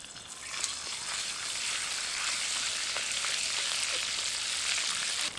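Ginger paste fries in hot ghee with whole cardamom, cloves and cinnamon for Kashmiri pulao, giving a steady, dense sizzle that barely changes while it is stirred, close and without talk.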